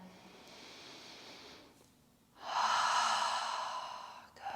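Deep yoga breaths heard up close during a prenatal session: a long, soft exhale, a brief pause, then a fuller, louder breath that gradually trails off.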